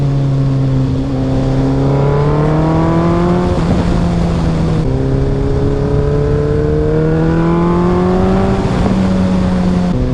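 A Suzuki Hayabusa 1300 motorcycle engine revs hard up through its gears. Each rising whine breaks off at a shift and starts again, loud and close, with no talk over it.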